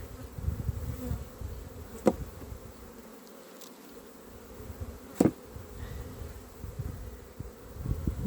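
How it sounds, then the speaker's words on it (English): Honey bees buzzing in a nuc hive during a spring inspection, a steady low hum with a couple of sharp bumps or knocks and no talk. "There's some bees there."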